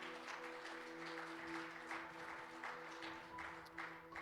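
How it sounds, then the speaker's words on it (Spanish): A church congregation claps in praise to the Lord during a Spanish-language sermon, a faint but steady patter of many hands continuing for several seconds. "¿Cuántos le pueden dar un aplauso al Señor?"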